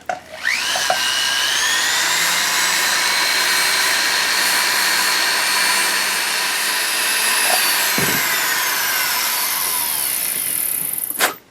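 A rotary radial-disc tool polishes the prongs of a handmade silver ring set with an amethyst. It gives a high, steady whine that spins up at the start, holds for about ten seconds with slight pitch shifts, then winds down. No one speaks.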